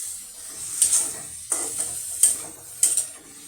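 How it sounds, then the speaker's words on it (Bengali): Chopped onion frying in a pan for vegetable curry, a steady hiss of sizzling oil with several sharp stirring scrapes and clinks of a utensil against the pan, no talking. "এই পেঁয়াজটা আমি এখন এখানে দিয়ে দিলাম।"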